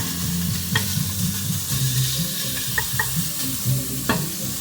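Small cut-up bacon pieces sizzle steadily in a hot pan over medium-high heat, with a few sharp clicks and scrapes as they are stirred and broken apart, loud and close with no talking.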